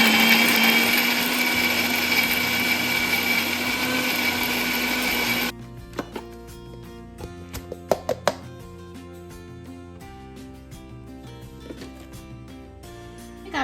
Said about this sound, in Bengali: এরপর মিক্সিতে